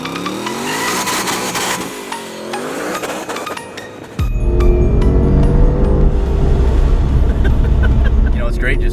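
ProCharger-supercharged car accelerating, heard from inside: the engine revs rise in steady sweeps, then a louder, fuller roar comes in as it is kicked down to pass traffic, with talk over the top.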